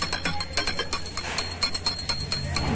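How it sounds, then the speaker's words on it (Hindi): A small prayer bell rings rapidly and repeatedly during Diwali, with bright, metallic clangs, close and fairly loud, in a quick jangling rhythm. "घंटी भी बजा दो।"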